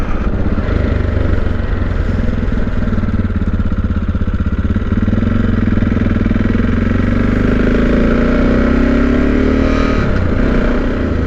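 A 2018 SWM Superdual X motorcycle engine runs steadily while being ridden, a continuous close drone with a gradual rise in pitch toward the end and no speech.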